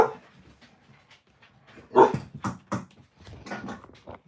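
A dog barks several times in short, uneven bursts, some sharp and some softer and whiny, fairly close with quiet gaps between.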